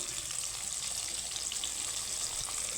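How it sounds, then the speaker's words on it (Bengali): Eggplant slices frying in a pan of oil, giving a steady, even sizzle that runs without a break, close and fairly quiet, with no talking. "বেগুনগুলো কিন্তু আমার ভাজা হয়ে গেছে এখন আমি তুলে নেব"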